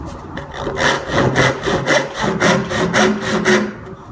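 Rhythmic back-and-forth strokes cutting into wood, about a dozen even, rasping passes at close range, steady and loud with no talk.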